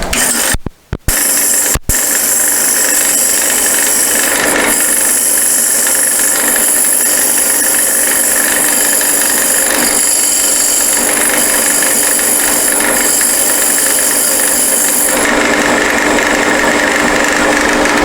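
A wood lathe runs steadily while a Mason jar lid is sanded at 120 grit, giving a continuous loud rasping, whirring drone with a couple of brief dropouts near the start.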